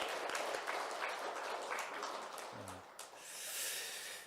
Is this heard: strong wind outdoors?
no